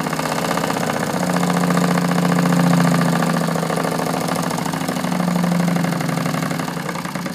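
A Wilesco D16 model steam engine runs steadily, giving a continuous rapid mechanical chuffing with a faint hum that swells and eases slightly, heard alone at close range.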